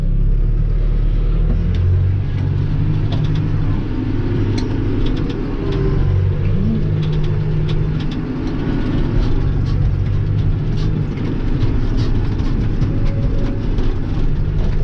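A tractor pulls a broadcast fertilizer spreader across a field, giving a loud, steady low engine drone and rumble with a faint rattling hiss of scattered granules above it, continuous and close, no voices.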